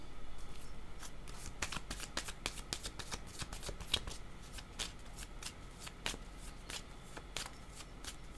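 Tarot cards being shuffled by hand, a dense run of crisp riffling snaps and flutters close up, repeating steadily throughout with no speech.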